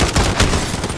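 Rapid video game gunfire crackles loud and dense for a full second, a steady burst of overlapping shots with no pause and no voices over it.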